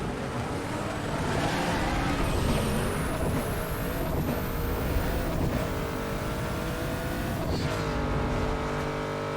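A video game car accelerates hard in a drag race, a loud continuous engine roar with rising tones as it climbs through the gears, backed by a steady wash of road and wind noise.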